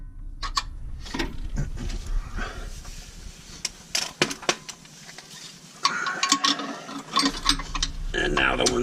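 Ratchet tightening bolts on a track bar brace on a Jeep Wrangler JK, with fast clicking bursts of the pawl and metallic clinks spread through the clip, close up, and some quiet movement between strokes.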